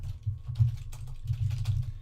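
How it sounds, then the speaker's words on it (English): Keywords typed on a computer keyboard for product research, a steady run of soft, close clicks and taps continuing without pause and with no voices. "you're going to be basically typing in your keywords"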